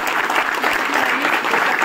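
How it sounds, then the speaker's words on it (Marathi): An audience applauds loudly during a school honouring ceremony for a teacher, a dense, continuous wash of many hands clapping nearby. "सत्कार होताना सर्वांनी जोरदार टाळ्या."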